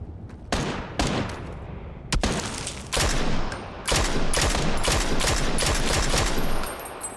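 Rapid video game gunfire: bursts of shots crack out one after another, close and loud, building into a nearly continuous volley toward the end.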